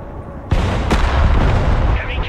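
Artillery fire in the Broken Arrow war game, a sudden heavy boom followed by a second sharp blast and a rolling rumble of explosions, with a voice talking underneath.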